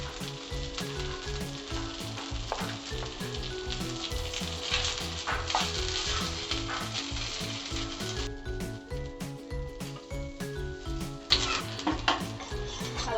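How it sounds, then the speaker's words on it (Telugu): Rava-coated fish pieces fry in hot oil, a steady close sizzle running throughout with occasional clinks of a utensil against the pan, no voices. "అలాగే మిగతా ముక్కలు కూడా వేయించుకుందాం"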